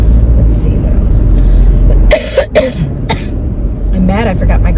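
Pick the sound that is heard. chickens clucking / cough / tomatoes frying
cough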